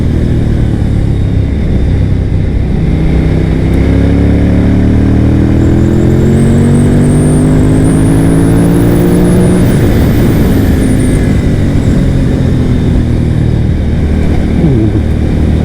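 A Suzuki TL1000R motorcycle ridden hard along bumpy back roads during suspension testing, its loud, close engine rising and falling through gears under heavy constant wind rush.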